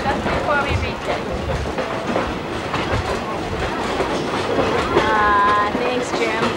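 Wheels of the Skunk Train clatter in a steady clickety-clack rhythm over the rails, with carriage rumble and a faint wheel squeal near the end, while people talk over the ride.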